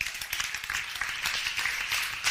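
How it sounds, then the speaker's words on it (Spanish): Congregation applause for Matías during a church sermon, a continuous dense patter of many hands clapping at moderate distance, steady throughout with no talking over it. "Un aplauso para Matías"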